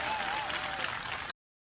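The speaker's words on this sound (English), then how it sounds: "Give John a big round of applause." A political rally audience claps for Lieutenant Governor John Cherry, a brief burst of steady, moderately loud applause with some crowd noise that cuts off abruptly.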